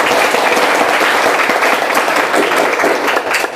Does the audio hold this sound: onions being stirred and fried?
no